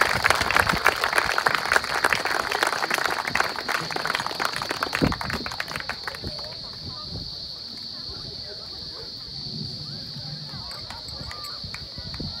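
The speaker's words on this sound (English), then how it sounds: "Can we give a big round of applause for them?" Applause for a youth soccer team at an under-10 grand final, dense clapping loud at first then thinning into a scattered patter, with a hum in the background and talk over it.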